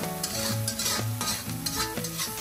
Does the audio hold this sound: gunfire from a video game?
no